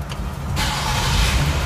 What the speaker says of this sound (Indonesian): Gue nyalain dulu ya mesinnya.